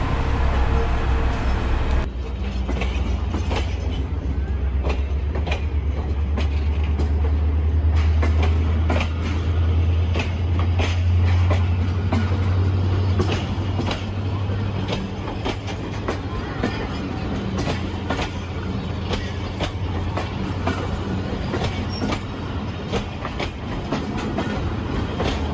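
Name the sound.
Pakistan Railways Bolan Mail passenger train at Drig Road station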